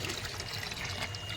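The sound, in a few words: water pouring while collecting water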